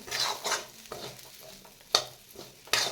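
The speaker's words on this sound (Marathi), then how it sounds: "आता याच्यामध्ये सोयाबीन आणि वाटाणे घालायचे आहेत आणि थोडंसं मिक्स करून घ्यायचं आहे" Soybeans and peas stirred and roasted in a pan, with a rhythmic sequence of scraping, sizzling strokes and short metallic knocks of the spoon against the pan.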